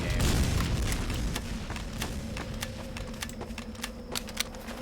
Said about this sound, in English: this one works like a normal grenade launcher in the game.